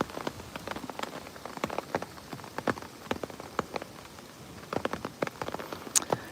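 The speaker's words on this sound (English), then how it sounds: "because it's raining, the water's very distracting" Rain falls steadily outdoors, with soft continuous patter and many sharp, close drips and splashes scattered throughout.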